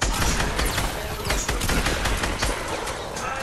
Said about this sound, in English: Oh, now I'm getting shot at.